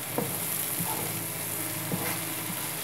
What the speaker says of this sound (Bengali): এটা সহ মশলা সহ সবজিটা এখন খুব ভালো মতো ভেজে নিতে হবে